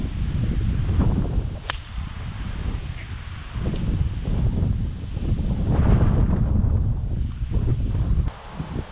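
Wind gusts across an open golf course in Waterlooville, a steady broadband roar buffeting the microphone with rising and falling surges and a couple of sharp clicks, no talking.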